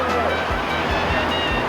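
Ocean waves breaking on the shallow reef sandbar at Pipeline, Hawaii, during a surf contest: a continuous loud roaring wash of surf, close and unbroken.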